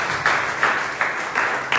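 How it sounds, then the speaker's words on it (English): An audience at a Congolese support group youth workshop applauds, steady clapping with a few louder swells. "Can we just a round of applause for our presence speaker?"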